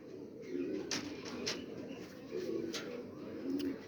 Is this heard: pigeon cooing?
yes